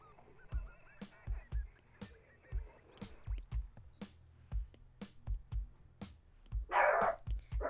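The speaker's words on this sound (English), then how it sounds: "barking through the blanket is going to be intimidating to the mailman" A dog hidden under a blanket barks at the mailman in a steady run of a dozen or more muffled, deep woofs, evenly spaced and close, with a brief louder rustle near the end.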